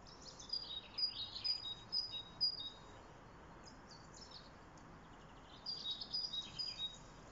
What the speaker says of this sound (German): Hörst du den Vogel?